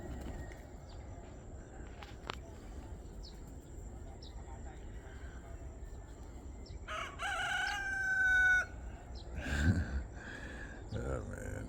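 A rooster at a property in the Philippines lets out one loud, drawn-out crow near the middle, over a quiet outdoor background with scattered clucks and faint ambient sounds.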